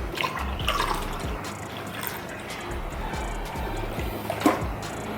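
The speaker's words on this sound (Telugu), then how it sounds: "ఇప్పుడు మనం దీంట్లో వాటర్ పోసుకోవాలి." Water poured into a creatine drink, a close steady trickle and splash into a container with a few drips and light knocks, moderately loud and without talk.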